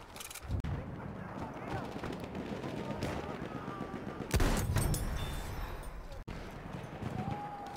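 Battlefield 1 battle noise with rapid bursts of distant gunfire and a louder crack partway through, set against a rumbling background, while a voice speaks quietly in the mix.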